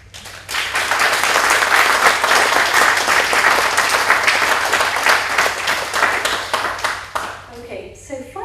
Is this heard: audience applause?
yes